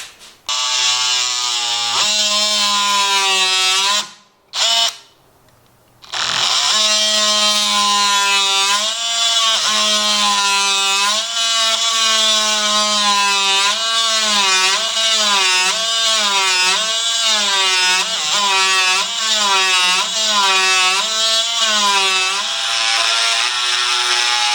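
A power saw plunges into timber for a frame landing on workshop stairs: a loud, close motor whine cuts out briefly, then restarts and bogs and rises repeatedly in pitch as the blade works through the wood.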